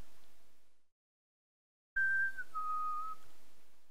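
A person whistles a short two-note falling phrase, clear and close, following a brief silence, with faint room noise beneath.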